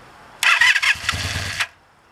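A Honda Interceptor VF500 motorcycle is cold started with the choke on: a brief, loud burst of starter cranking and engine churning lasts just over a second, then cuts off.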